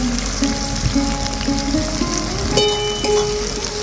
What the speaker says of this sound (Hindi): एबार दिए देबो प्याज कुचि